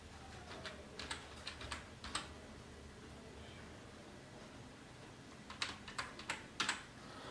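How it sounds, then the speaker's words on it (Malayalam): Soft keystrokes on a keyboard as a wifi password is entered for a Tenda router, coming in two short bursts of quiet, close clicks with a pause between them over faint room hiss. "നമുക്ക് ഈ ഒരു വൈഫൈയുടെ പാസ്വേഡ് ഏതാണോ അത് നമ്മൾ ഇവിടെ ടൈപ്പ് ചെയ്ത് കൊടുക്കുക."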